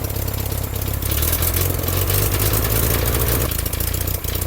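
A Volkswagen Beetle engine idles with a loud exhaust, a steady low throbbing rumble close by that holds throughout, swelling slightly partway through before easing back.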